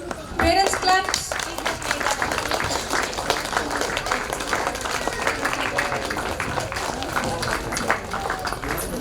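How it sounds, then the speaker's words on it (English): Parents in a school annual day audience clap steadily throughout, a dense, continuous patter of many hands at moderate loudness, with some voices and crowd noise mixed in and a brief louder burst near the start. "Parents, please keep clapping."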